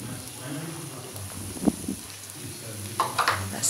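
A spoon scrapes through a pan, stirring green peas into cabbage curry over a soft, steady sizzle, with a few sharper clinks toward the end.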